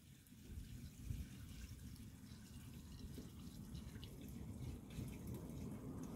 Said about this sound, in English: I had a lot of water in it.